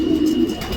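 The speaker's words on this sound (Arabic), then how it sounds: "هذه الحمامة هي طيرة موديل" A 2023 female pigeon coos close by in a single low, steady call, alone and clear.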